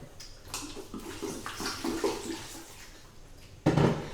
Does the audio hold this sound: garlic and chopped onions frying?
no